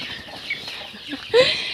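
Chickens cluck and squawk close by on a farmyard, being shooed away, with a sudden louder burst of agitated clucking toward the end.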